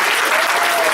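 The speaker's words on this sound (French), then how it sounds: "Merci Bernadette McBurney, on l'applaudit bien fort." An audience at a workshop gives a loud, steady round of applause for a speaker named Bernadette McBurnie, a dense wash of close clapping from many hands with no pause.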